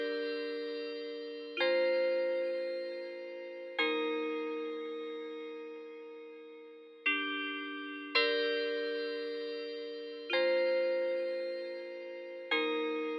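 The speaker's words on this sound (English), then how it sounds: "So that sound is a bell sound from GMS." Bright, ringing bell tones strike in a repeating pattern, each hit decaying slowly before the next, with no voices.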